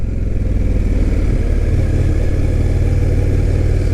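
An Indian FTR 1200 motorcycle engine drones steadily throughout, loud and close, while riding on a country road; the engine note stays even and sustained with wind roar, and no voices are heard.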